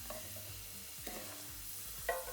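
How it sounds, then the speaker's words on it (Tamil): Dried red chillies and ginger frying in a pan for a mint chutney, giving a faint, quiet sizzle with a few soft stirring knocks and scrapes and no voices. "காஞ்ச மிளகா போட்டு நல்லா வறுத்துக்கிட்டே இருக்கணும்"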